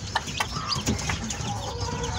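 A rooster clucking nearby, a few short clucks over a steady background of farmyard noise.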